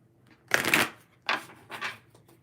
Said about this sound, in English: Let's do one more shuffle here for Ralph.